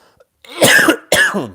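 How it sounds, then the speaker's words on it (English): A man coughs in two harsh, close bursts after a brief pause, one longer hacking cough followed by a shorter second one, with no talking. "I'm holding back seriously coughing fit after coughing fit here"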